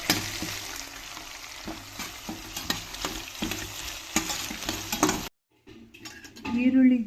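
Chopped onions fry in a pan for fenugreek-leaf rice (menthya soppu bath), a close sizzle with repeated metal spatula scrapes and clinks, a brief silent gap, then a voice speaking.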